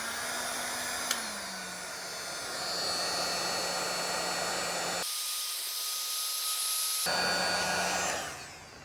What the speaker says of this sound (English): Let's start off with a little transfer a bit of heat.